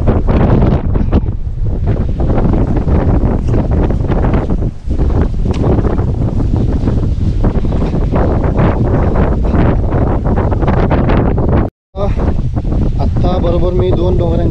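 Strong wind roars across the microphone in a mountain pass between Hanumantgad and Nimgiri, a loud, constant buffeting rush with a brief drop-out near the end and a voice mixed in.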